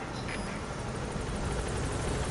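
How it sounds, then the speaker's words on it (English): In Metal Gear Solid V: The Phantom Pain, a helicopter arrives with a steady, broadband rotor drone that fills the scene without pause, with no speech over it. "let's call for a helicopter"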